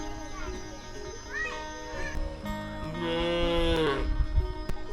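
Cattle in a rural village in the morning give a long, loud moo close by, with other animal calls, light background sounds and people talking around it.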